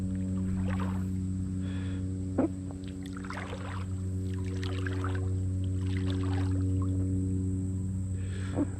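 Paddling a river tube through creek water, with soft splashes and swishes of water under a steady low hum, moderately faint and close, with a sharper splash now and then.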